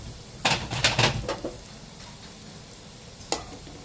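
Garlic, coconut and coriander sauté in a pan for fish masala, a quick run of sharp scraping stirs up close, then a softer sizzle and one last scrape.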